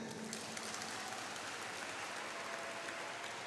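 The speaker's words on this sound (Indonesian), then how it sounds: "Tepuk tangan." A crowd claps steadily and evenly throughout, a dense wash of applause with no voices over it.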